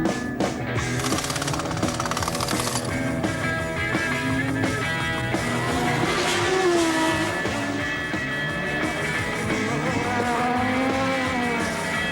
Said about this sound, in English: Mark is driving the turbocharged Formula One Olivetti Brabham car in the 1985 British Grand Prix